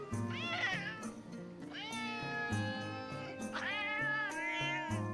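A cat meows repeatedly in the video game Metal Gear Solid: Peace Walker: several long, drawn-out, wavering meows with rising and falling pitch, close and clear over a quiet game background.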